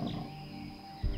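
A lion roars on the South African savanna, a deep rumbling call sustained and fairly close, ending in a sudden louder low burst.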